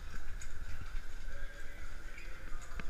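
Horse hooves clip-clop steadily at close range, with a brief whinny-like tone in the background.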